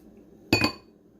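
A single short spoon clink against glass while stirring pineapple juice with lemon, close and sharp amid quiet.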